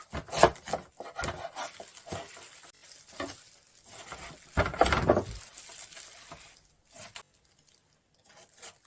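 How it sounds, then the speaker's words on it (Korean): A knife slices through a watermelon up close, with crisp crunching and scraping strokes in a few separate bursts and quiet pauses between. "앞뒤면을 잘라내고 칼집을 깊이 넣어줍니다."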